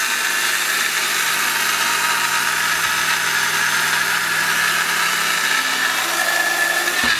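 A 2000-watt Sujata or Panasonic blender runs at high speed, a loud, steady motor whine with dense broadband roar that continues unbroken from start to finish.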